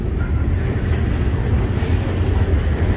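Freight train with grain hopper cars, plug-door boxcars and distributed power units rolls past close by, a loud, steady rumble of wheels and cars with faint clatter and no talk.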